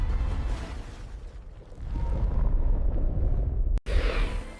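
Asteroid impact explosion sound effect: a deep, sustained roar and rumble with a brief cut and then a renewed burst of noise.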